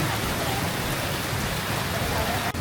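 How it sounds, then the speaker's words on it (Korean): A sudden heavy downpour in Hanoi city gives a dense, constant, close roar of rain with no break. "비가 와가지고 잠시 쉬어가야겠네"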